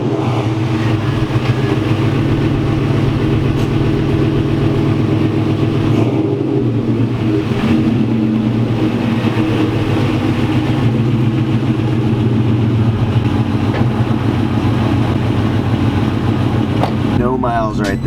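A 1999-2004 Ford Mustang GT engine idles loudly with a deep steady rumble and occasional revs throughout, close by and continuous.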